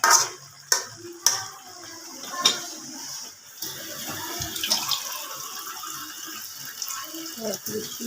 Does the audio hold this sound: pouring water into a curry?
yes